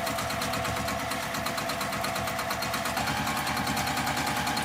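A sewing machine quilting fabric for a zipper pouch runs at a fast, steady mechanical whir throughout, close and continuous, with a rapid regular needle rhythm and no pauses.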